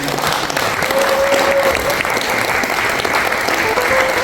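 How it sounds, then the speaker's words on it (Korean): Loud, dense audience applause after a lecture by a former deputy prime minister, a continuous wash of many hands clapping close by, with a faint voice or tone drifting through the middle. "오명 전 부총리님 국가원로회 의장님께 큰 박수 부탁드립니다"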